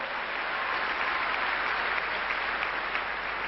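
Sustained applause from a large crowd at a political rally in Toulouse, a dense even roar of clapping that holds steady throughout without a break.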